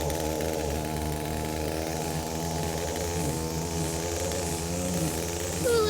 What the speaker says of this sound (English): My husband's weed whacking.